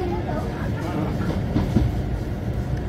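Passenger train rolling along the rails with a steady low rumble and soft rhythmic clatter, heard from inside the carriage at moderate level, with people talking faintly.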